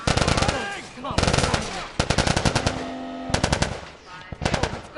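Bursts of automatic gunfire in The Last of Us Part 1, loud and close, firing in rapid rattling volleys separated by short gaps.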